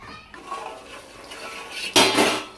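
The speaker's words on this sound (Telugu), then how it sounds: "త్రీ మినిట్స్ మూత పెట్టుకుందాం." A metal lid is set onto a pot of green chicken cooking on the stove, giving a sharp clattering clink near the end after quiet kitchen background noise.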